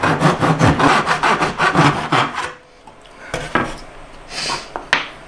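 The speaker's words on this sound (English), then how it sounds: "you can cut a 45 degree bevel right here in the end of the miter box" Hand saw cutting a 45 degree bevel in wood held in a miter box, rapid rasping back-and-forth strokes for about two and a half seconds, then a few scattered scrapes and knocks, close up.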